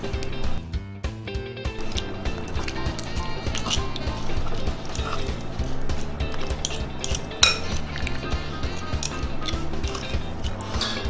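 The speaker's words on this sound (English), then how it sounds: "I'm gonna mash it" A utensil mashes butter into bone marrow in a dish, with steady close scraping, tapping and clinking of metal against the dish, continuous with small irregular knocks.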